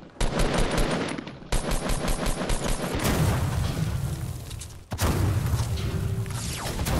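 Loud, dense video-game gunfire in Fortnite: rapid automatic bursts and booming shots run almost continuously, with a brief pause near the middle before the firing resumes.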